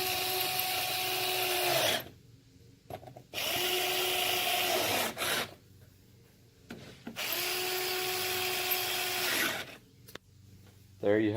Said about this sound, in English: Got my trusty Black & Decker.